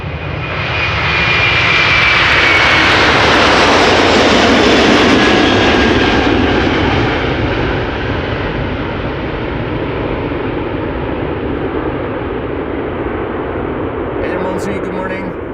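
A Delta Airlines jet departs Amsterdam Schiphol for New York JFK, its engines building to a close, powerful roar and then tapering into a steady distant rumble, with a brief spoken sound near the end.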